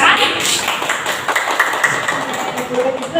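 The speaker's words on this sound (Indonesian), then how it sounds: "Oke, tepuk tangan." Schoolchildren applaud in a primary school classroom during an Islamic history lesson, producing a short burst of scattered clapping that overlaps with background chatter and fades after a few seconds.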